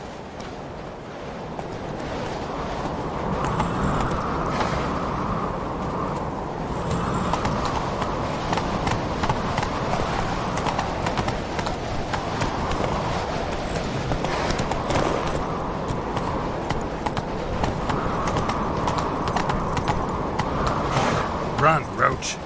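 Hooves pound in a steady gallop as a horse runs through The Witcher 3: Wild Hunt, loud and continuous, with rushing ambient wind and game sound layered beneath, no voices during the ride.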